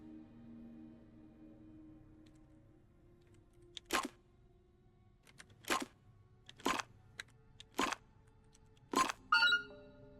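A telephone rings in the video game Resident Evil 2 as a series of about five sharp, evenly spaced bursts over a quiet background, with no talking.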